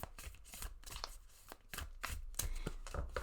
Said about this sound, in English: I'm going to shuffle these cards again